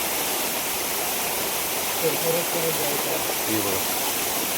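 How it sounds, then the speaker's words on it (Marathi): A tall waterfall dropping from a high cliff in the Konkan at night gives a steady, loud, close roar throughout, while someone speaks briefly over it. "उंच असा धबधबा आहे."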